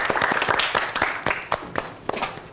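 Applause and scattered hand claps in a classroom after a student named Josia gives a correct answer, a short burst of several people clapping that thins into a few sharp, separate claps toward the end.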